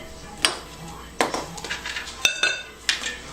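Chocolate cake batter being whisked and folded in a bowl, with intermittent clanks of the whisk against the metal and soft scraping between them, close and moderately loud.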